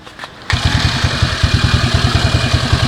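A Yamaha NMAX scooter's small engine fires up abruptly and settles into a steady, rapid putter, loud and close, idling with a regular pulsing rhythm.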